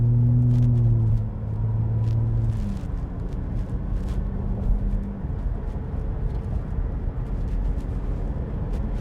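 A Ford F-150 Raptor V6 accelerates onto a highway with a steady, deep engine rumble that settles into a continuous road drone, with no voices.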